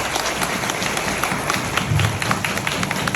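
Audience applause during a corporate talk for Grupo Sicoob, steady clapping from a crowded room with scattered sharper claps and a low rumble beneath.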